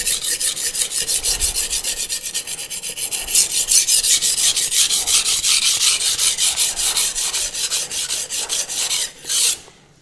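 A knife is drawn in quick, even back-and-forth strokes across a Shapton Kuromaku 220 grit whetstone, giving a close, steady, gritty rasping rhythm of many repeated passes that stops near the end.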